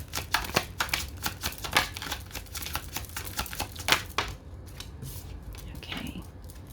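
Tarot cards being shuffled and drawn: close, rapid riffling and snapping card flicks for about four seconds, then quieter sliding and tapping as the cards are laid out, with faint speech in the background.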